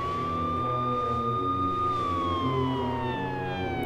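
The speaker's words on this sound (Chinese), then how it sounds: "这是有警车的声音。" A police car siren in the video game Minecraft wails loud and steady, its pitch slowly sliding downward near the end, with no talking.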